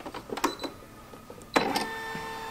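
A Brother NS2750D sewing and embroidery machine powers on and initializes its embroidery unit, giving a series of short mechanical clicks and whirs, then a louder motorized burst followed by a sustained electronic tone, fairly quiet and close.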